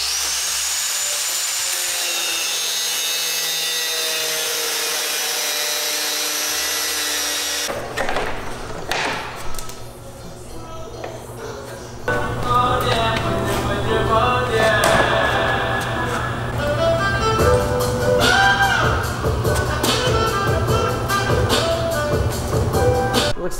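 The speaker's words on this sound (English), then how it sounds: "So I'm just gonna grind them off." A grinder cutting off bent screws on the bottom of a front splitter fitted to an FRS: after a steady hum, harsh loud grinding with shifting pitch starts and continues, up close, with no talking.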